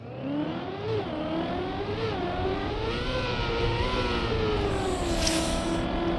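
A racing video game car engine revs steadily and loudly, its pitch wavering up and down in sustained harmonic whines with a slight rise near the end, alone without talk.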